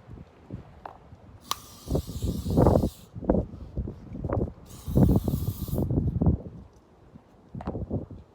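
An aerosol spray can hisses in two bursts of about a second each onto shoes outdoors in strong wind, close and loud over steady gusty wind rumble and scattered handling noises.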